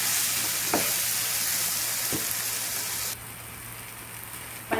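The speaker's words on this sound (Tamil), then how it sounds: "இப்போ தக்காளி நல்லா வந்து ஃப்ரை ஆயிடுச்சு." Tomatoes and onions frying in a pan for a methi malai gravy, a close, continuous loud sizzle with a few spoon scrapes, easing slightly partway through.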